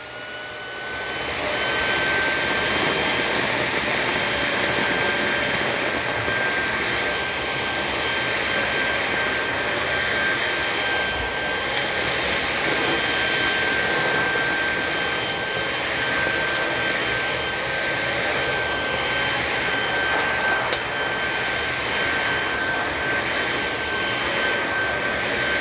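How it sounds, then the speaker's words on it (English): Amazon Basics cordless vacuum cleaner run on its high setting over carpet, a steady loud motor whine with a high-pitched tone holding constant throughout, alone with no talking. "Let's see how it does on the carpet. I'll put it in high for carpet."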